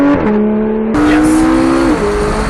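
Lamborghini and McLaren race cars on a track, engine droning loudly and steadily with pitch shifts as gears change, a sharper rev surge midway, continuous close engine roar throughout.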